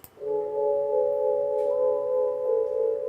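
Eerie sustained sample run through a Love Filter effect with the highs rolled off, a soft steady droning tone of a few seconds that holds at an even level.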